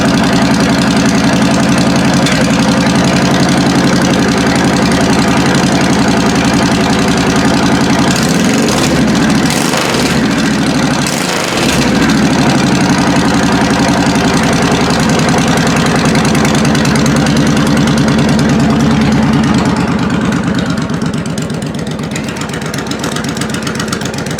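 A John Deere D105 lawn tractor engine idles steadily after its spring start-up, a loud, close, continuous low rumble with a brief rise and dip in the middle.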